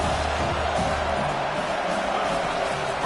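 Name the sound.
stadium crowd cheering at college football game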